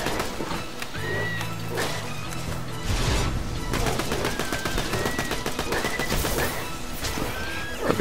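Rapid gunfire in Borderlands 2 crackles as dense bursts over steady game music and effects, with a few sharper impacts and no speech.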